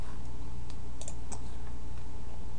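Computer keyboard typing while entering a web search, a few soft scattered clicks and taps over a steady faint room hum, close and quiet with no talk.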